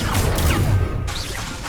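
Swishing, crackling magic effects from spells cast in the video game Hogwarts Legacy, a loud whoosh and crash of the spell followed by a fading shimmer.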